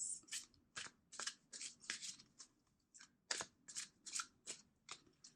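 Cards riffled and bridged repeatedly in quick bursts, a dozen or so crisp fluttering shuffles with short pauses between, close and fairly quiet.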